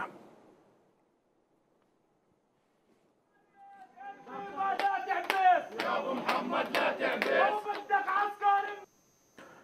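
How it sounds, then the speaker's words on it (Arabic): Funeral mourners march through village streets chanting protest slogans, a crowd of voices rising in loud rhythmic unison after a near-silent opening, with sharp accented shouts repeating throughout. "جب المشيعون شوارع القرية مرددين هتافات منددة بجرائم الاحتلال"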